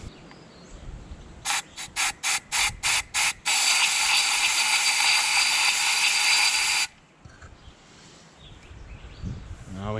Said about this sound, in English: we'll blast a little bit of air in there